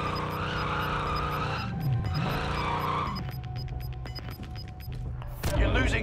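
A car in the Call of Duty Warzone video game drives and skids with loud tire squeal and engine noise, then a crash-like burst near the end, all under game voices.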